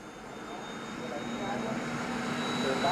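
BAe Hawk jets of the Red Arrows display team breaking formation, a steady distant jet roar that swells slightly, heard beneath a commentator's voice.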